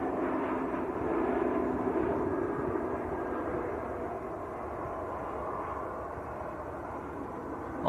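A Jet2 Airbus A321neo touches down at Manchester Airport with a broad, steady engine roar and rumble at moderate distance, slowly easing off over several seconds, no talking.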